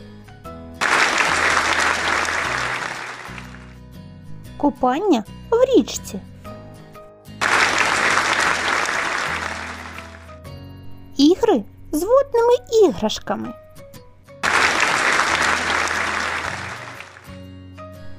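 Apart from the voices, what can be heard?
children clapping hands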